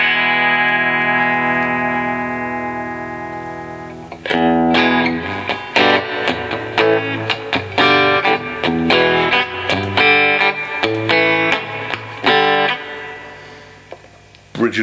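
A new Squier Stratocaster on the bridge pickup plays through a Fender Deluxe amp with reverb: a long sustained chord rings and fades, then a run of bright, twangy picked notes and chords with a roomy tail.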